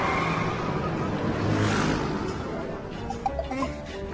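A car accelerating, a continuous engine roar with a rising surge partway through, heard up close with some faint higher clicks and tones toward the end.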